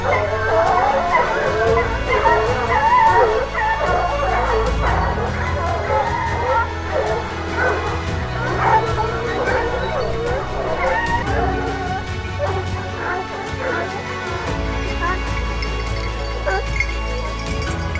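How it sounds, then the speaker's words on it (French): A pack of hunting hounds bays at a wild boar, excited barks, yelps and whimpers overlapping continuously and close by, with a faint vehicle hum underneath. "le sanglier ne démarre pas tout de suite, donc les chiens se mettent aux abois autour"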